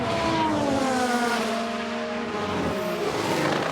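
A Ferrari Formula 1 car in the F1 Manager 2022 racing game drones with a loud, steady high-pitched engine whine whose tones glide slowly downward, running without pause.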